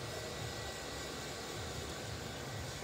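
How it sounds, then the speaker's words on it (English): A blow dryer drying freshly cut hair on a short layered bob produces a steady, close, even rushing whoosh with no talking. "So let's not go too strong with the blow dryer."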